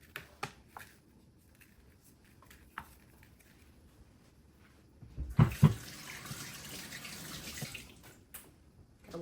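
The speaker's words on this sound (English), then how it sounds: "Gotta wash my hands." Water runs from a kitchen tap during handwashing for about three seconds at mid-clip, a close steady splash following scattered light clicks and handling noises.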